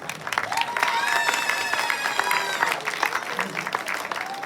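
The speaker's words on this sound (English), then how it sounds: "give a great round of applause for all our team members" Audience applause for company team members at a 2024 board update meeting, a dense steady clapping that fills the room, with a few voices and cheers mixed in throughout.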